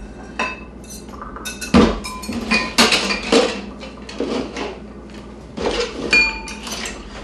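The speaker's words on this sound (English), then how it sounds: "I use a pastry blender." A metal pastry blender clanks and scrapes against a bowl as a cup of butter is cut into batter, making irregular knocks and clinks with short pauses and no talking.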